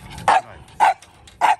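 A pet dog barks three times at a steady pace, each bark loud, sharp and close, with short quiet gaps between them indoors.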